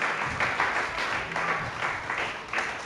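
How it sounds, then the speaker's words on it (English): Applause for newly named captains at a 2020 award presentation, a moderate crowd clapping in steady overlapping bursts, heard from a little distance in a room. "can we give a round of applause for our new captains"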